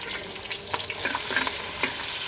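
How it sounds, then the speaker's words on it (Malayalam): Mustard seeds pop and crackle in hot oil, with scattered sharp pops over a steady close sizzle, alone and without talk. "കടുകിട്ടു അപ്പോൾ കടുക് പൊട്ടി"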